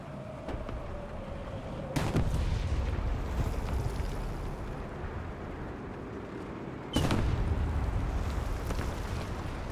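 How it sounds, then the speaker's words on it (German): Two heavy artillery blasts boom out a few seconds apart in War Thunder, each a sharp loud crack followed by low rumble, over steady engine and battlefield noise. "Da kommt der Artillerie."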